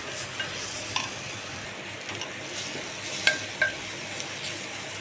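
Meat masala fries in a pan and is stirred, giving a soft continuous sizzle broken by light scraping and a few sharp clicks of a utensil against the pan.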